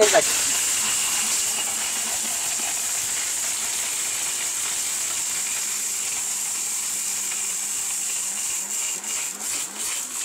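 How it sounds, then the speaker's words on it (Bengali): A steel-bush blender grinds brick into powder with a loud, steady, harsh roaring hiss that holds for several seconds, then breaks into a run of pulsing surges near the end. "বাংলাদেশে এই প্রথম ভাই স্টিল বুশের ব্লেন্ডার 15 সেকেন্ডে ইট গুঁড়া"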